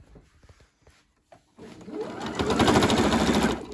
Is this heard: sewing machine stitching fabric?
yes